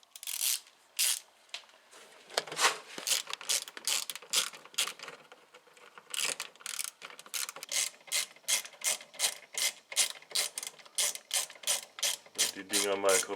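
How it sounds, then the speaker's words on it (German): Ratchet wrench clicking in steady rapid strokes, removing 8 mm clip screws from the timing belt cover of a VW Passat 35i with the 2.0 L 2E engine; loud, close and alone, with a few pauses between bursts. "und dann ist das wieder ein typischer Einsatz für Magic Ratsche"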